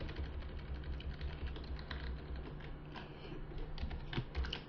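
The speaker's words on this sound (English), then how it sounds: "I'm just going to type in template, free template." Typing on a computer keyboard in a quiet room, a steady run of soft, close key clicks with a few louder taps over a low electrical hum.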